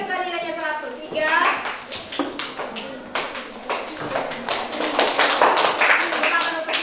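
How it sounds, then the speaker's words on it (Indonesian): Children in a classroom clap for a classmate, a burst of quick, uneven hand claps that swells and continues with small voices mixed in. "Tepuk tangan untuk Iga, nilainya 100."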